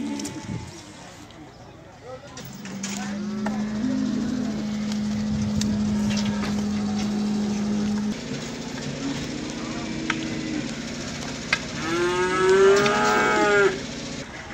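Cattle at a livestock market lowing in long, drawn-out moos, several calls in a row at moderate distance, with people talking in the background and occasional bird coos.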